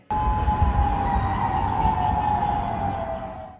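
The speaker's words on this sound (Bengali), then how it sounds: "হাওয়াই আলাস্কা এবং জাপানে সাইরেন বেজে ওঠে" A loud, sustained tsunami warning siren wails continuously after a strong earthquake in Russia, holding a steady high tone that slowly falls, with rumbling noise underneath.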